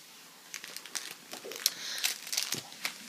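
Martha Stewart adhesive die-cut packaging being handled, giving scattered close crinkles and plastic rustles in short irregular bursts over a quiet background.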